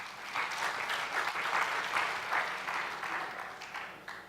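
Sustained applause from a seminar audience at a student entrepreneurship session in Zimbabwe, welcoming a guest speaker; steady, dense clapping throughout with no voices over it.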